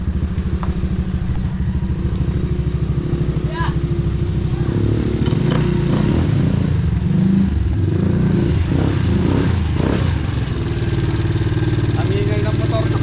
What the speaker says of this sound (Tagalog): Ang ingay ng motor ko.